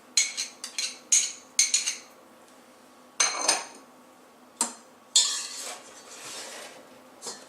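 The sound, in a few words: mixing yogurt, vinegar and oil in a bowl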